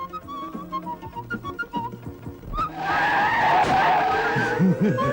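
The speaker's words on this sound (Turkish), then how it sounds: "Kamyon çarpacak." A truck skids hard before crashing in a Turkish comedy film scene, with a long, loud tire screech and engine roar over several seconds following a stretch of music.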